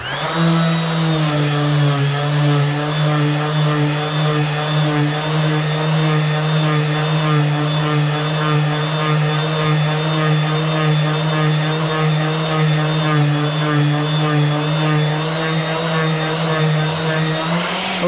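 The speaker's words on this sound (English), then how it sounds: "So we're gonna sand with 120, then we'll go 180, 220." A power sander fitted with a dust bag works over cured epoxy with 120-grit paper, giving a loud, steady motor whine with a constant hum that runs unbroken and close throughout.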